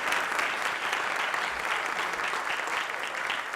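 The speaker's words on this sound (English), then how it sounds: "Let's have a round of applause for all of the candidates who did a marvelous job today." Sustained applause from a debate audience after a Democratic primary debate for Maryland's 6th Congressional District, a steady dense wash of clapping filling the room with no break.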